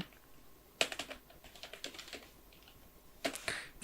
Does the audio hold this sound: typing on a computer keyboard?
yes